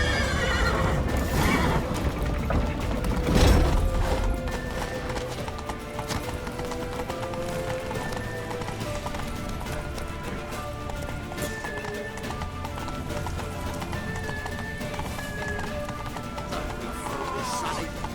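Horses gallop in The Witcher 3: Wild Hunt with steady clip-clop hoofbeats under a dense, loud game soundtrack, a whinny rising briefly near the start amid shouting voices.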